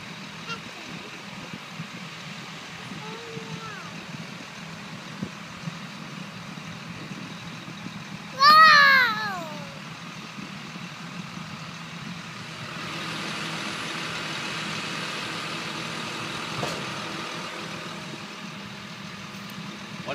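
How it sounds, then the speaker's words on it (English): Steady low engine drone from a farm tractor running outdoors, continuous throughout, with a brief burst of nearby voices and a rising, busier stretch of machine noise later on. "It's a tractor."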